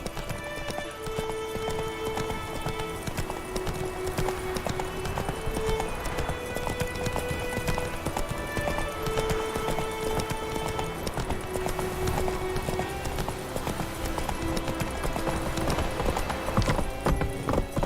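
Roach the horse gallops steadily through a video game, with continuous rhythmic hoofbeats and an occasional whinny over a busy musical backdrop.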